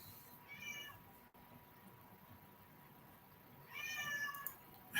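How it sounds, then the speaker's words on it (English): A long-haired cat meows twice indoors, a short meow near the start and a longer one near the end, fairly faint over quiet room noise. "He talks a lot, though. It's kind of annoying. He really talks a lot."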